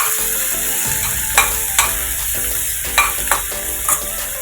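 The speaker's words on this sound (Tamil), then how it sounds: "நல்லா வதக்கிக்கலாம்." Two finely chopped onions sauté in a pan with pepper, cumin and coriander for a Sri Lankan style chicken gravy, a loud continuous sizzle broken by a few sharp scraping stirs.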